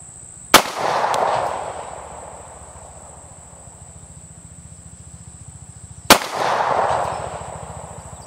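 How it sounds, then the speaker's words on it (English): Two sharp, loud pistol shots from a CZ P-07 fired at an outdoor range toward a target 25 yards away, about five seconds apart, each followed by a brief rumbling echo, with crickets chirping steadily in the background. "25 yards, 3 shots,"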